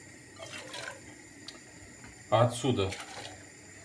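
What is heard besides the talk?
water being poured into another pot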